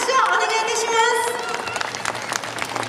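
Audience applause for two riders at the Isesaki Auto Race Silk Cup 2019 final, a dense burst of clapping from a crowd that thins slightly toward the end, with a voice over a public address system briefly heard.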